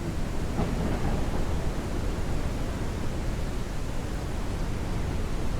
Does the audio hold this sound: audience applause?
no